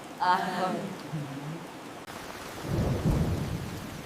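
Heavy rain on a schoolday with a deep rumble of thunder swelling in the second half; a voice speaks briefly over the downpour at the start.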